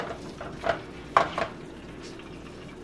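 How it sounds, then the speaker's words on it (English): A few scraping stirs and soft clinks of a utensil against a pot as pork is mixed into Thai green curry over low heat, sparse, irregular strokes at close range with no talking. "We're just going to mix the pork."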